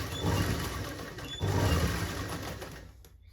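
Sewing machine stitching a seam on palazzo pants, two quick bursts of rapid mechanical whirring close by with a short pause between, fading at the end.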